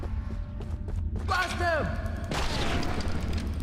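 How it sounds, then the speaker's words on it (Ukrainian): Enemies fire shotguns in the video game Choo-Choo Charles, giving a few close booming blasts over steady game noise, with a voice speaking just before. "оці стріляють ще, вони дроб'ю стріляють"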